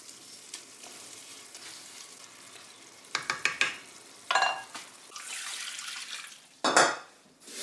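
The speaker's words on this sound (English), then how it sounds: "I'm going to add a little bit of thyme. And give it a good mix." Food in a pan with pasta, parsley and thyme sizzles quietly and gets a vigorous stir, with several clattering scrapes of a utensil against the pan standing out over the steady frying.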